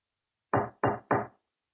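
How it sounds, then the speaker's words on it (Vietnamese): Three firm, evenly spaced knocks on a bathroom door, loud and close, used as a sound effect in a horror story, with silence before and after. "Có tiếng gõ cửa trên cánh cửa phòng tắm."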